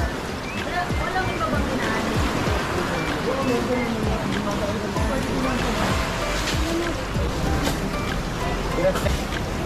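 Strong ocean waves surge and crash near the Kay Butas rock formation, a continuous churning wash of water with voices talking over it.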